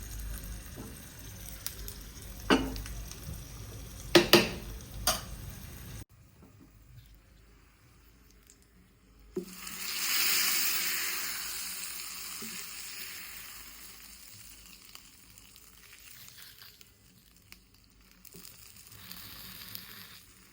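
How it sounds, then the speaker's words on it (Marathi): A Marathi-style tadka hits hot oil: after a few sharp clatters and a silent gap, a sudden hissing sizzle flares up loud and then gradually settles into a softer crackle, with no talking. "अशा प्रकारे हा मी तडका दिलाय"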